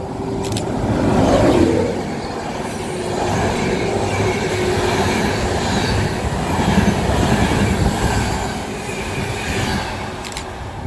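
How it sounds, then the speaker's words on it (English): Train 1D21 from London King's Cross to Leeds, led by locomotive 91111 with 82214 at the rear, crawls past at Grantham: a loud, close, steady rumble with wheel noise and faint clicks throughout, no talking. "crawling through is 1 Delta 21 from London King's Cross to Leeds"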